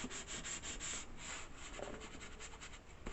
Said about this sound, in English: wipe off the excess glue there.